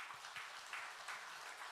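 A church congregation at a Sunday service claps in welcome, a soft, distant patter of applause lasting under two seconds.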